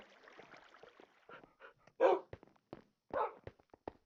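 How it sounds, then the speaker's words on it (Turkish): Dogs in the Minecraft video game let out several short, sharp barks and yips in quick succession, loud and close over a faint background. "Senin 3 tane mi köpeğin var?"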